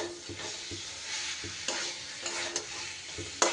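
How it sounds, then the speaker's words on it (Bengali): Pointed gourd being stir-fried with grated paneer and spices, a steady sizzle broken by repeated scraping and clattering stir strokes, close and alone with no voices. "পনিরটা দিয়েও পটলের সাথে খুব ভালো করে আবার মশলার সাথে কষিয়ে নিতে হবে।"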